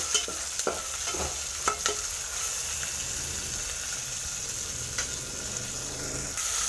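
Cumin seeds and ginger-garlic paste stirred in a frying pan, a soft continuous sizzle broken by several scraping strokes of a spoon against the pan, close and fairly quiet, with no talking.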